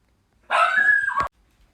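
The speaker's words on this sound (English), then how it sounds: "Sorry for the doggy noise" A single drawn-out dog vocalization, a whiny bark or yelp lasting under a second, close and loud, with quiet before and after.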